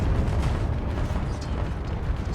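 A loud, rumbling explosion of a spaceship's Nova Cannon in Space Engineers, a dense roaring blast that sustains throughout with crackling bursts on top.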